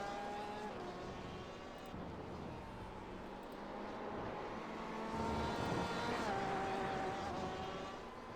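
A Porsche race car at Laguna Seca drones steadily with a tonal engine whine that shifts in pitch and swells louder near the end, heard at moderate distance with no talk.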